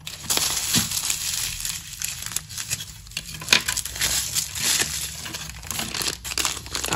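Plastic parcel bag crinkling and rustling steadily as it is handled and opened up close, with dense crackly bursts throughout and no talk.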